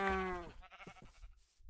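A Minecraft sheep gives a single bleat, loud and close at the start, followed by softer blocky game sounds.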